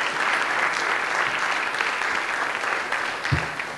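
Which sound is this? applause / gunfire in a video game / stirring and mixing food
applause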